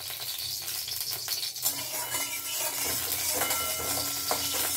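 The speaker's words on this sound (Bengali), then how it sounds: "এখানে আমি সামান্য তেল মানে অয়েল ব্রাশ যাকে বলে সেটাই করে নিচ্ছি" Oil brushed across a hot kadai, with a steady bright sizzle and soft scraping strokes against the metal pan close up, and no talking.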